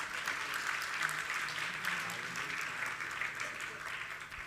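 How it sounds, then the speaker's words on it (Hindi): An audience claps in steady, sustained applause for the whole stretch, dense and fairly loud, filling the hall at a religious discourse. "तालियां बजाने से हम थोड़ी खुश होंगे।"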